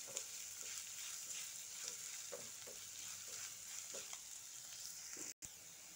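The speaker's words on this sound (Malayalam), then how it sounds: "ഇഞ്ചി പച്ചമുളക് സവാള ഇതെല്ലാം നന്നായിട്ട് മൂത്ത് വരണം" Ginger, green chili and onion sautéing in a pan for an evening dish of leftover puttu, a soft steady sizzle under faint intermittent scrapes and stirs from a spoon, quiet and close with no voices.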